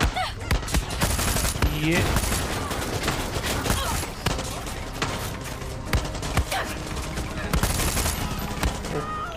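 Rapid automatic gunfire from Far Cry 6 fills the scene, dense, loud bursts with shots crackling almost continuously amid game noise, while someone talks briefly over it.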